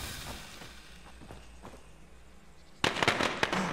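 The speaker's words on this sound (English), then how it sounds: "we'll use the firecracker." After a stretch of soft scattered taps, a thrown firecracker bursts loudly near the end in the video game State of Decay, followed by a rapid crackle of pops.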